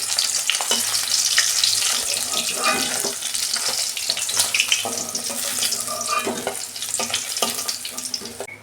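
Drumstick-stem vegetables and potatoes fry in the oil left from frying fish in a pan, a loud, close, continuous hiss and crackle of sizzling with occasional stirring scrapes.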